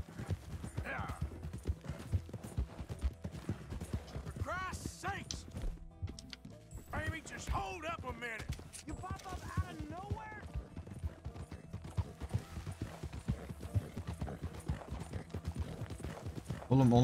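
Horse hooves galloping in Red Dead Redemption 2, a fast, steady clip-clop rhythm running throughout at moderate level, with someone talking over it in bursts.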